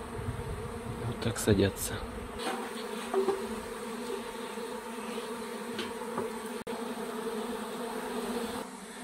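A soft honeybee swarm buzz hums steadily throughout, with a few louder bursts early on and a brief spoken remark near the start.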